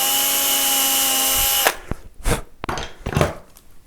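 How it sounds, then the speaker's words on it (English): Electric drill boring a hole into a Telecaster guitar body, a loud steady whine for about a second and a half that stops abruptly, followed by a few faint handling knocks and clatters. "So I'll just drill the second hole."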